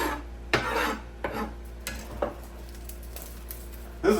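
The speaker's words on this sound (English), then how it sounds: "The bulk peeling of the garlic." Fresh garlic cloves are peeled in bulk, giving a series of short crackling, scraping rustles of papery skin in irregular bursts against a quiet kitchen background.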